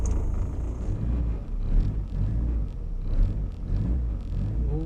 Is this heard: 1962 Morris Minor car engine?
yes